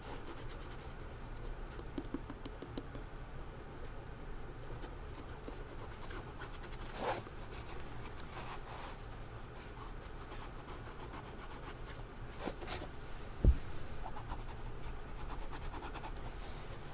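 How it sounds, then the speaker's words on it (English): White cream polish is rubbed onto the leather of white Air Force 1 sneakers in a steady, close, soft scrubbing pattern, with one sharper knock partway through. "Next up, I like to use a little white cream polish to kind of restore some of that color"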